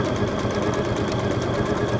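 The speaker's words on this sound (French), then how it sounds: "on passe à la machine à coudre" A sewing machine stitches fabric for a first dress or top, running in a fast, even mechanical chatter that is loud and close for two seconds, with no speech.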